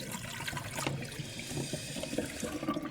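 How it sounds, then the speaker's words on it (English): Shredded potatoes drained through a fine kitchen sieve, giving a continuous close splashing trickle of water for a few seconds with no talk. "I'm just going to strain them out."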